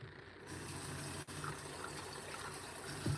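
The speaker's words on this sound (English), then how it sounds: "And you gotta wash your feet." Steady running water pours without a break, with a constant gushing hiss and a brief dip partway through, as someone washes their feet; no talking.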